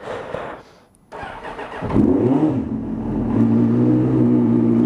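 A motorcycle engine cranks and catches after a brief quiet gap, then settles into a steady, loud, close idle that runs on to the end.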